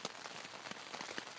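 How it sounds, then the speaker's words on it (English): Rain patters steadily on a camping tent in early spring, a dense, soft hiss of drops with a few slightly sharper taps, fairly faint and close, with no voices. "it's been raining most of the night."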